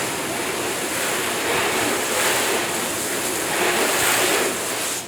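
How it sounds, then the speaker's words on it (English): Water sprays steadily from a hose or pressure nozzle onto a waxed, sealed car during a maintenance wash, a continuous broadband hiss that stays loud and close with slight swells in intensity and no talking. "the first thing I'm going to do is I'll spray some water on it."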